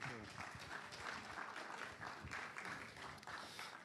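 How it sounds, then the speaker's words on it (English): Applause from a conference audience greeting a startup pitch presenter, steady broadband clapping for several seconds with some voices mixed in. "So let's give a round of applause to David"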